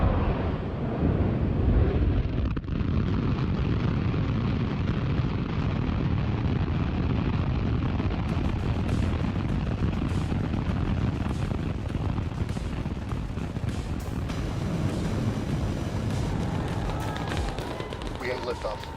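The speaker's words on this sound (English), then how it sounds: "We got liftoff." A SpaceX Starship rocket ignites and lifts off, its engines making a sustained, deep, crackling roar with heavy wind-like rumble that stays loud and distant, while voices call out over it.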